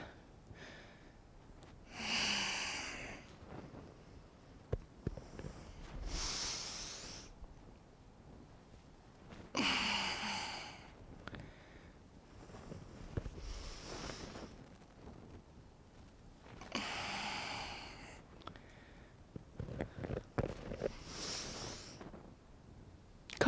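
Slow, deep breaths in and out during a yoga balance exercise, each long airy exhale and inhale close to the microphone in a steady repeating rhythm with quiet pauses between, no talk.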